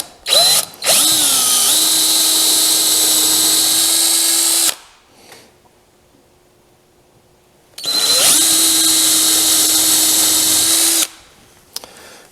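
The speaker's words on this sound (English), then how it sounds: "Then I'm going to drill holes right in the center of the little trace I made." A power drill bores holes into oak for a nightstand build, two loud sustained whirring runs of a few seconds each separated by a quiet gap, close and alone without talk.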